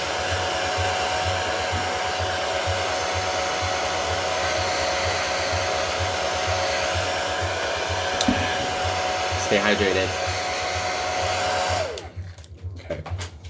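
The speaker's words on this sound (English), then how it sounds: "quick little blow dry" A hair dryer runs in a steady, loud, continuous drone during a drag makeup session to set makeup before powdering. A voice speaks briefly near the end as the dryer cuts off.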